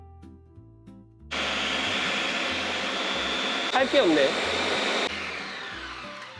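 A blender grinds tomatoes in a steady, loud whirring roar that starts abruptly, holds for several seconds, and then drops off, with brief speech over it.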